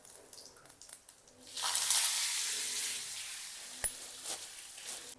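Hing, mustard seeds, cumin and curry leaves hitting hot oil in a kadhai for Maharashtrian kadhi, a sudden loud sizzle that flares up and then settles into a crackling fry.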